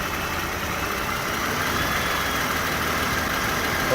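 A 2014 Toyota Camry engine idles with its AC clutch failing to engage. It makes a steady, even hum close by, with no voices.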